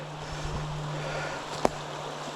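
Flowing water of Dismal Creek along the Appalachian Trail gives a steady, close rushing wash with a low hum beneath it and one sharp click near the end.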